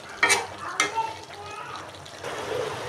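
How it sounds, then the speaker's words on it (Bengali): Papaya and egg curry sautéed in a pan: two sharp, close spatula scrapes ring out over a steady sizzle, followed by softer stirring and bubbling. "এই যে দেখুন আমার তরকারিটা কষাচ্ছি"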